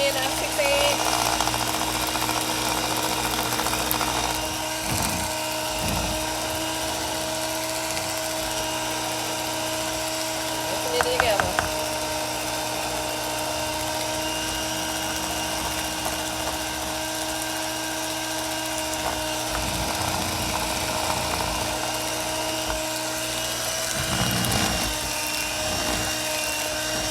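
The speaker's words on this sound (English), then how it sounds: "So we whipping in our 6 eggs." Six eggs are being whipped for cream cheese pound cake batter with an electric mixer, a steady whirring drone that runs throughout with small clatters and a voice speaking now and then.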